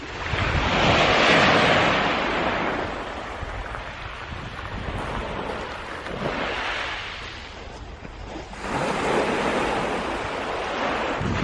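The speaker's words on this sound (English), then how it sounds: "it's not particularly windy out here tonight, and the waves are very small again" Small sea waves wash onto a beach at night at the Manor, Felixstowe, in slow swelling surges of broad hiss that rise and fade in a loose rhythm, fairly close, with light wind on the microphone and no voices.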